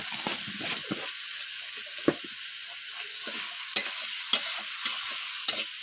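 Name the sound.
hilsa fish gills frying and being stirred in pan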